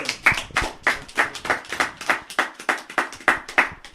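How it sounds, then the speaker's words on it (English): Rhythmic clapping at a Miss Garifuna Pageant talk event, about a dozen distinct crisp claps in a steady beat, close and fairly loud with no talk over them. "That deserves a round of applause."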